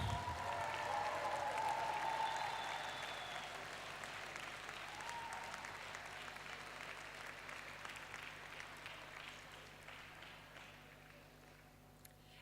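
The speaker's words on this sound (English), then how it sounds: "Big round of applause." Applause from the crowd at the opening ceremony of the 2018 FISU World University Cheerleading Championship, loud at first and then slowly tapering off, large and reverberant in the hall.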